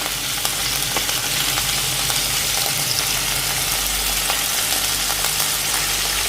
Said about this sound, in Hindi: अब इसको अच्छे से जो है ना भूनना है